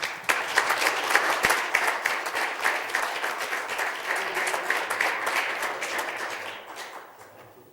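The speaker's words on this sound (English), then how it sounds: "Let's have a round of applause." Applause from the audience at a township trustees meeting, a crowd of hands clapping steadily at moderate volume before thinning and fading out toward the end.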